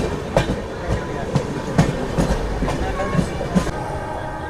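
A Bokaro Express train runs on the rails with a steady rhythmic clickety-clack of wheels over rail joints, loud and close inside the carriage, over a constant rumble.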